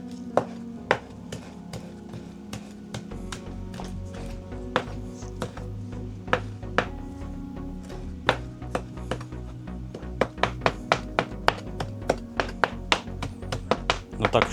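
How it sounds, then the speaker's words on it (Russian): A knife finely chops basil leaves on a cutting board, producing a steady run of crisp taps that grow quicker and denser toward the end, close and clear over a low background hum. "И тоже мелко листочки нарезаем."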